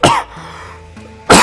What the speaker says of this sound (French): Attendez, je vais tousser.